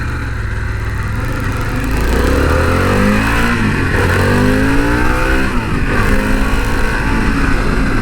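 Motorcycle ridden along a twisty backroad, its engine loud and close, rising and falling in pitch as it accelerates and eases off, with no talk.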